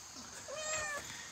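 A young cat, about a year old, gives a single short, faint meow close by in a quiet room.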